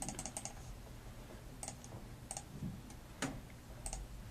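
Calculator keys are tapped in quick, light clicks, a short burst at the start, then several separate presses spaced out as a number is entered, faint and close with no talk.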